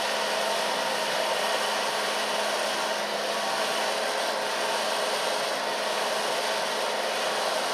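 A hair dryer blows steadily on a short blonde hairstyle in a salon, a loud, continuous close-up whoosh with no breaks from start to finish.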